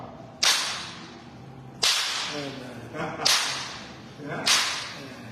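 Sharp slap strikes from a handmade sound-effect device built to imitate a face slap, four loud cracks spaced about a second apart, each with a short noisy tail, heard alone without talk.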